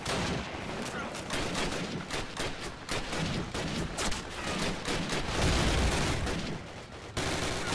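Heavy World War II combat gunfire in Call of Duty: United Offensive, with dense overlapping rifle and machine-gun shots and distant explosions forming a loud, constant battle din.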